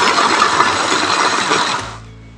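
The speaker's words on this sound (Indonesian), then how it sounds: "Semua cabenya masuk, kita akan blender atau chopper kasar ya teman-teman ya." A food chopper coarsely chops chilies, garlic and shallots for shrimp sambal, giving a loud, steady whirring motor buzz that runs continuously for about two seconds before switching off abruptly.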